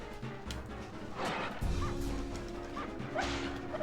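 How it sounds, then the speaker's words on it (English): Giant dogs barking and yipping in Castlevania on the N64, a few harsh, close barks and whimpers mixed with crashing combat sounds and game music. "that sound means that we have more giant dogs to fight"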